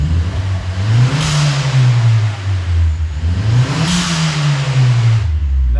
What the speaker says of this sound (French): On va mettre des petits coups de gaz et j'espère que vous allez entendre la dump décharger.